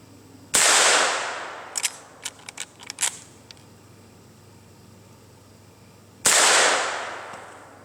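A Winchester 1892 model rifle fires two loud, sharp outdoor shots several seconds apart, each with a ringing decay, and a few small clinks of the action are heard in between.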